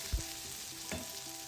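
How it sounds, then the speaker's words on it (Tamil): Green beans being stir-fried in a pan on a low flame for a Sri Lankan beans fry: a soft, steady sizzle broken by a couple of quick stirring scrapes, close and quiet, without any talking. "இதை நீங்கள் ஒரு 2 மினிட்ஸ்க்கு ஒருக்க மாதிரி நல்லா பெரட்டி விட்டு நல்லா வதக்கி எடுத்துக்கோங்க"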